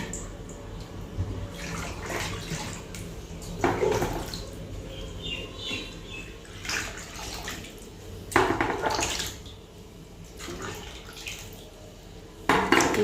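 Water is poured into a bowl to soak fish, coming in several gurgling splashes and runs with clinks of the bowl between, close and moderately loud, no talk.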